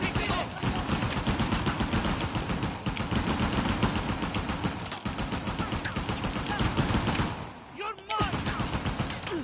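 Gunfire in the speedrun video game Uncharted: The Lost Legacy, heard as dense, continuous rapid shots over a steady loud bed, with a brief dip and a sweeping whoosh near the end.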